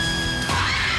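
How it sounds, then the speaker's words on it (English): A loud, strained scream rises suddenly and holds for about half a second in a TV show promo, over a dense sound bed. "Big screams"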